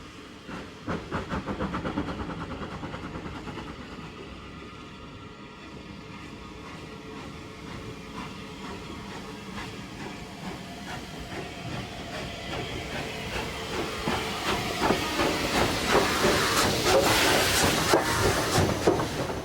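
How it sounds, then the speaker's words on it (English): The steam locomotive 257 Squadron works along the Swanage Railway, its hiss and chuffing rumble growing steadily louder as it draws nearer, with clattering wheel noise throughout. "This is 257 Squadron, at work on the Swanage Railway."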